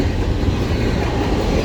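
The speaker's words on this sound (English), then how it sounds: "There you see the end of the train way down there." A Norfolk Southern freight train led by an SD70ACE locomotive rolls past at Shenandoah Junction, a loud, close, continuous rumble of wagons with a faint clickety-clack of wheels over rail joints.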